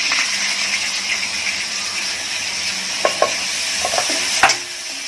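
Onion frying in hot oil tempering gives a constant close sizzle as it is stirred, with occasional scraping knocks of the spoon against the pan.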